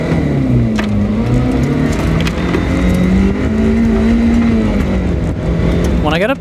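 Toyota MR2 Spyder engine climbing and easing in pitch as it accelerates out of a low-speed turn on an autocross course, steady and loud from inside the car, with a sharp rising whine near the end.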